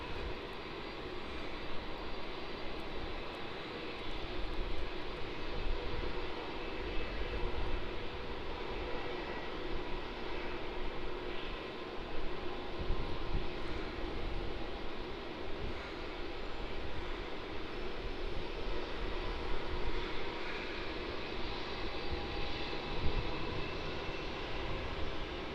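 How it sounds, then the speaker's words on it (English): A Jetstar Airbus A320 jet arriving from Adelaide at Melbourne Airport, heard as a steady, broad engine roar that holds at an even level throughout, with no voices. "on arrival here we have the Jetstar A320. It's coming from Adelaide as JQ771."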